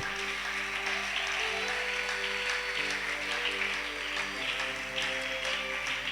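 A church congregation applauding in worship, a steady wash of clapping hands sustained over held musical tones, moderately loud and continuous.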